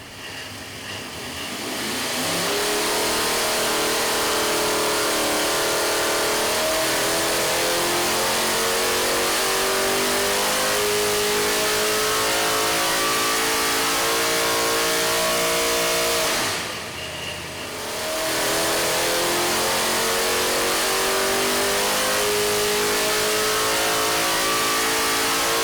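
An A-Mod race car engine set at 30 degrees of advance screams on a dyno, climbing from about 4,500 to 7,100 RPM. A loud, rising roar is briefly cut by a dip near the middle, then a second sustained pull follows.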